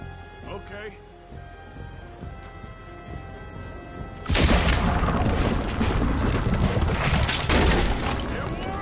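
A cannon booms in Red Dead Redemption, a sudden loud blast about halfway through that gives way to sustained crashing, gunfire-like roar, following quieter ambience with voices.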